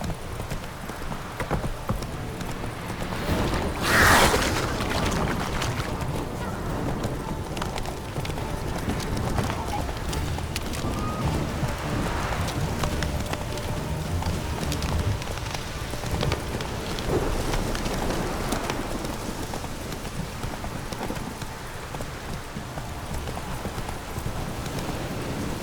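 Horse galloping through steady rain in The Witcher 3, a continuous rapid clip-clop of hooves over a constant rain hiss, with a louder burst near the start and a voice speaking briefly.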